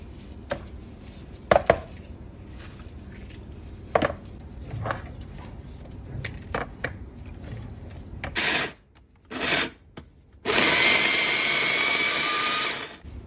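Knife chopping hot green chili peppers for pickled lemons, heard as scattered crisp cuts, then several loud, sustained rushes of broadband noise near the end.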